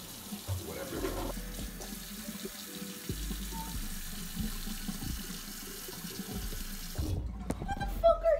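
Water runs steadily from a bathroom sink tap as faces are washed, a continuous splashing stream with brief interruptions, close by and fairly loud throughout.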